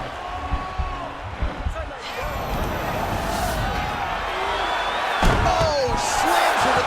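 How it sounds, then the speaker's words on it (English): A heavy body thud as one female fighter slams another to the mat in a mixed martial arts bout, set against loud arena crowd roar and commentary voices. "Oh, slams her to the ground"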